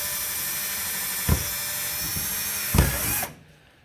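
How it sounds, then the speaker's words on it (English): A power drill whines steadily at close range, drilling pilot holes in a Volvo S60 front door, with two short bumps as the bit bites in, then winds down and stops. "I'm going to take my drill, make me a couple little pilot holes."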